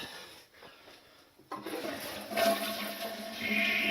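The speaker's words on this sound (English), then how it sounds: "And drain all the water out." A leaking household toilet is flushed after its water supply is shut off to drain the tank; after a quiet start a sudden rushing gush begins and swells into a steady, close, gurgling flow.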